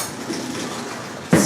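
Metal cutlery clinks and rattles briefly as someone rummages for a spoon, with soft shuffling first and a sharper close clatter at the end.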